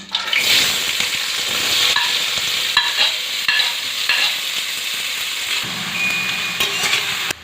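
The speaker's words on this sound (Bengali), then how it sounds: "তারপরে দিয়ে দেবো পেঁয়াজ কুচি।" Chopped onion sizzles in hot oil with bay leaves while a spatula scrapes and stirs the pan, giving a continuous close crackle broken by short tool knocks, with no talk.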